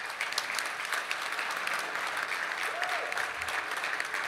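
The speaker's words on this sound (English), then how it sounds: "Let's give them a good round of applause for each one of them." Steady, fairly faint applause from a crowd at a 2013 New Jersey benefit dinner, a continuous patter of many hands throughout.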